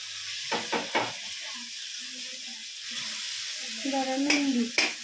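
Food is stirred in a kadai, a wok-style pan, with a few sharp scraping strokes over a soft sizzle, close and fairly quiet, as a voice speaks briefly in the background.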